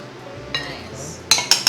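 A utensil stirring a pot of tomato sauce seasoned with salt and pepper, soft scraping followed by three sharp metallic clinks against the pot near the end, close by.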